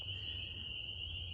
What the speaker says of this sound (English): those frogs, they are really loud.